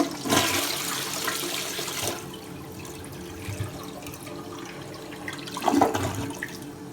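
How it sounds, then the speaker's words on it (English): A 2002 American Standard Space Saver Cadet toilet in a hotel room flushes loudly with a rushing surge of water, then settles into a steadier refill hiss with a brief gurgle near the end, with no talking. "We'll give it a flush."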